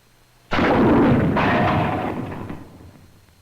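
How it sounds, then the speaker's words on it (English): An M6 bazooka rocket strikes a heavy steel armor plate target in a single sudden loud blast, followed by a rolling rumble that fades over about three seconds. "let's see exactly what happens when you hit a tank"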